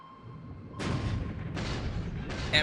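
Enemy submarines firing on sub chasers in the War in the Pacific strategy game: three broadband booming bursts of gunfire, one about every 0.75 seconds, loud and close over a low rumbling background.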